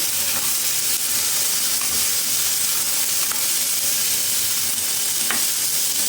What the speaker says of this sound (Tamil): அது கூடவே ஒரு ரெண்டு இனுக்கு கருவேப்பிலையும் போட்டுக்கலாம் போட்டுட்டு நல்லா வதக்கி விட்டுடலாம்